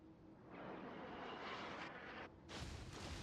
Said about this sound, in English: A lone dive bomber is coming and probably won't do much